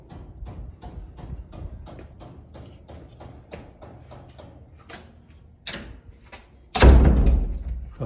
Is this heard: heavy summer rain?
no